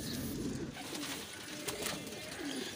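Several pigeons kept at a pigeon club give low, rolling coos in repeated phrases, fairly near and quiet, with no talk over them.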